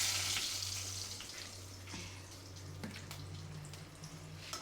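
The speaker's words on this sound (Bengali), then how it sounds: "আর দিয়ে দিতে হবে শুকনা মরিচ ফোড়নে। এই যে 2টা শুকনা মরিচ দিয়ে দিলাম।" Two dried red chilies sputter and sizzle in hot oil for tempering, a soft steady hiss with faint crackles over a low hum.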